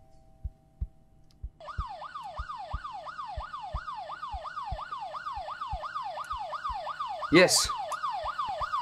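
A police siren wails in a fast, repeating up-and-down cycle in a horror video game, rising over a thumping heartbeat, while a voice briefly speaks.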